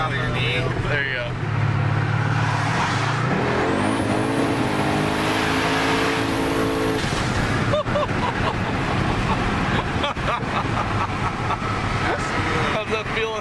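A car with a 404 Hemi engine is driven hard at a Tx2k17 event, its loud engine roaring steadily throughout with a rising rev in the middle, while people talk over the noise inside the car.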